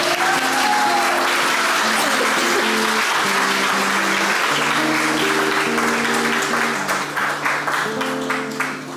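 Applause during a council session honouring a woman, sustained audience clapping over background music, loud and steady, with the clapping becoming more distinct and tapering near the end.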